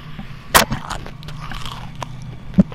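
A person crunches on food while playing a video game, giving one sharp loud bite near the start, scattered softer chewing crunches, and another distinct bite near the end over a low background hum.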